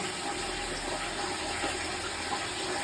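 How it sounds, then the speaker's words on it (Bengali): Water runs and splashes steadily while a puppy gets a bath with shampoo in a bathroom, a faint, even wash with no voices. "আমাদের পুচকু পোস্ত চান করছে।"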